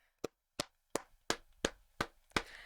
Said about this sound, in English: round of applause for Noor Zainab